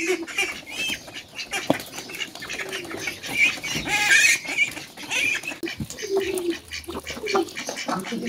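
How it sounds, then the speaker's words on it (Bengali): Ducks and chickens spill out of a coop at close range, with scattered quacks and clucking calls rising and falling over soft shuffling and rustling. "এই যে হাঁসগুলো এখন বের হবে।"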